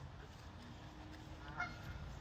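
Geese honk faintly and some distance away outdoors, with one louder honk standing out above a low, steady background rumble.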